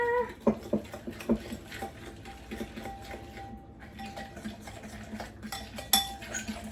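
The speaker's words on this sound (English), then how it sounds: "I'm just going to whisk these together" Brownie batter with walnuts for a keto chocolate cake is whisked in a bowl, giving a run of light clicking and tapping strokes against the bowl, fairly close, with brief pauses and no talking.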